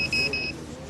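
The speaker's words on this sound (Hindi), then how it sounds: "30 सेंटीमीटर के फासले में कोई चीज़ आ जाती है तो ये अलार्म हो जाता है।" Obstacle sensor alarm on a blind person's walking stick gives a few quick high-pitched beeps over background room noise, close and brief.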